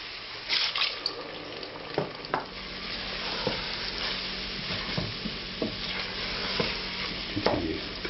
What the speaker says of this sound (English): Now I'm going to add about half the wine.